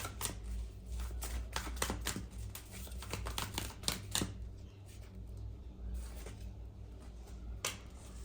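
Tarot cards being shuffled by hand, a run of quick papery riffles and taps, close and moderately loud, with a soft low hum underneath and no talking.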